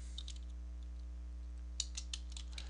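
Keystrokes on a computer keyboard as a command is typed into an Ubuntu terminal, a few scattered clicks late in the clip over a steady electrical hum, fairly faint and close.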